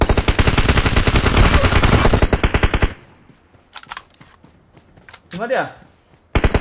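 Rapid automatic gunfire in a first-person shooter, loud and dense for about three seconds, then stops abruptly; quieter shuffling and a brief voice follow before another burst cuts in at the end.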